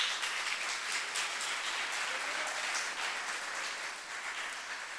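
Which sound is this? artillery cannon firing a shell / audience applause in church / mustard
audience applause in church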